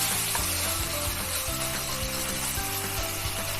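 Salmon sears in hot oil in a pan, giving a steady, loud sizzle with a few soft scraping and shifting sounds over it, and no talking.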